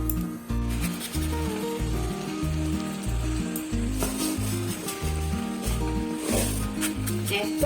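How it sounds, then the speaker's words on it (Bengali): Dried chillies and spices dry-roast in a hot wok for mango pickle, a soft, steady crackle and rustle of stirring heard under louder rhythmic background music. "কড়াই গরম বসিয়ে দিয়েছি, এগুলোকে আবার একটুখানি ড্রাই রোস্ট করে নেব।"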